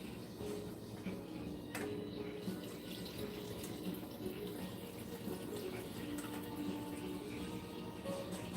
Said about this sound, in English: I'm gonna throw all this water in there.